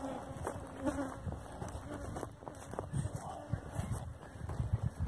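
Honey bees buzz around an opened beehive, a steady layered droning hum close by with scattered knocks and handling bumps of frames, and a voice talking faintly underneath.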